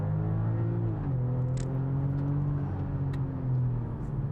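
A 2025 BMW X3 M50 with a turbocharged inline six-cylinder engine pulls steadily under acceleration, a deep continuous drone with rising engine tones heard from inside the cabin, no talk over it.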